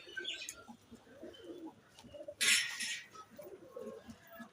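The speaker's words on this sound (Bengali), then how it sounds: "তো আর পায়রাগুলো একবার দেখে নাও।" Pigeons coo softly at close range in a few low, repeated calls, with a sharp burst of fluttering or rustling partway through and faint background noise throughout.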